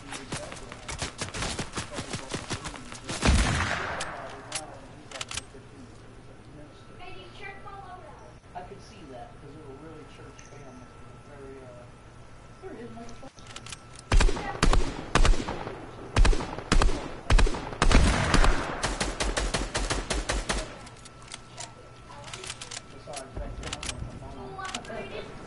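Sniper gunfire rings out in a video game match, with sharp repeated shots clustering in bursts, some close and loud, while a person talks over much of it.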